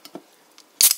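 A can of Perrier Forever Blackberry cracks open with a sharp hiss, after a couple of faint clicks of handling, close and alone.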